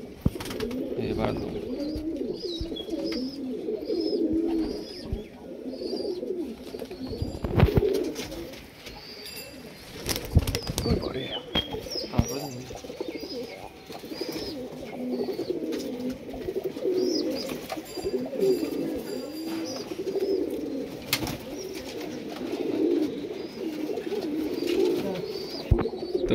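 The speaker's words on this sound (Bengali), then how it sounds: "এগুলো সব দাদার ব্রিডার পায়রা।" Breeder pigeons cooing repeatedly in soft, throaty bursts, close by, with occasional sharp wing flaps and a few faint background noises.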